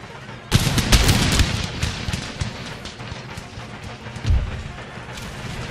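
Musket volley fire in Empire Total War: a sudden loud crackling burst of many shots at once, trailing into scattered pops and rumbling echoes, then a second smaller volley.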